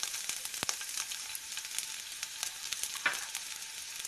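Onions sizzle in hot ghee in a pan, a steady close hiss with a few soft scrapes and taps, alone without any voice.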